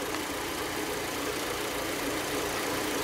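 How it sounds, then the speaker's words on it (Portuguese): Fiat Palio engine running rough, a steady dense mechanical roar with an uneven churning texture, close and continuous throughout with no voices. "Ele tá numa cavalgada esse motor."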